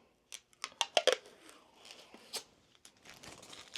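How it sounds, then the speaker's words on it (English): Protective film peeled off a laser-engraved Rowmark LaserMAX reverse acrylic sign, heard as a few sharp close crackles and plastic snaps followed by quieter crinkling and peeling in a quiet room. "We just peel off that front protective coating"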